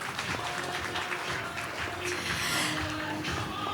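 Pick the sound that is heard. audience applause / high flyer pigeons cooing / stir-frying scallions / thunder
audience applause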